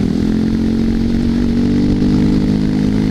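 A motorcycle engine drones loudly and steadily while riding across snowy powder on ice, a close, continuous buzzing roar with slight rises in revs and no speech.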